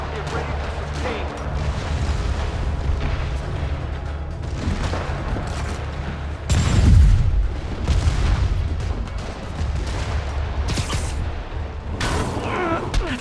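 Rocket blasts in the video game Marvel's Spider-Man boom repeatedly through a busy combat soundscape, with one heavy explosion standing out midway among scattered impacts and game noise.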